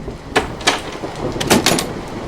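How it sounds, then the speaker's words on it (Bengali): Door opening as a sound effect in a horror audio story set in an old British bungalow with wooden floors: a few sharp creaks and knocks, with a louder cluster near the end, over a quiet background. "আমি বিরক্ত হয়ে দরজাটা খুলে দিই।"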